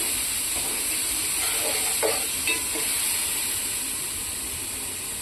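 Chopped tomatoes hiss and sizzle steadily in a very hot pot for prawn biryani, a continuous loud frying sound with a few brief stirring scrapes.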